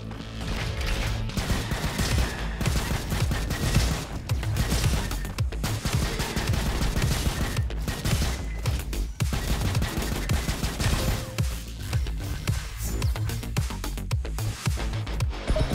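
Rapid repeated shotgun blasts in the Roboquest shooter game, loud close bursts firing in quick succession over continuous combat noise with no talking.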